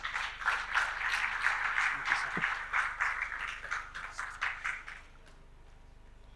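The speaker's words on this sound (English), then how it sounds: "A round of applause for Professor Mohammed Raji." Clapping from an audience at a VillageSquare Big Ideas conversation on brain health greets Professor Mohammed Raji, a dense patter lasting about five seconds before it tails off into quiet room tone.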